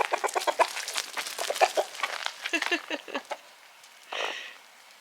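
Hens clucking busily near the listener as they are fed, a dense run of short overlapping clucks and squawks, followed by a brief louder burst of flapping or scuffling toward the end.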